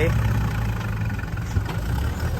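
A Kubota tractor engine idles nearby, a steady low chugging hum with a faint whine above it that runs evenly throughout, with no one talking.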